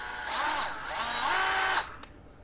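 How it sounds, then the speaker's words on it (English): A DeWalt cordless brushless hammer drill runs with its pitch rising and falling as variable speed changes, then winds down and stops with a small click. "Variable speed."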